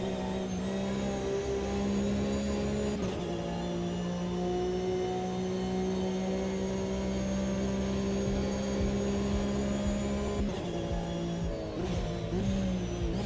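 A racing car in the sim Automobilista 2 drones steadily at sustained revs through a long stretch, its engine tone shifting briefly around gear changes, loud and unbroken with no talk over it.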